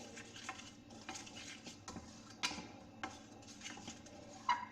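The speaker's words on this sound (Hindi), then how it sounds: "इसको थोड़ा ड्राई रोस्ट कर लें." Flour dry roasting in a pan for white sauce, stirred with a utensil: soft scraping and light clinks against the pan recur in an uneven rhythm over a quiet background, with no talk.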